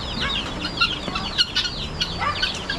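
A hen clucks steadily while chicks peep in high, rapid chirps, a busy overlapping chorus of poultry close by after heavy rain.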